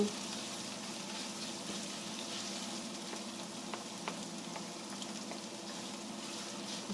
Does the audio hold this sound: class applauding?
no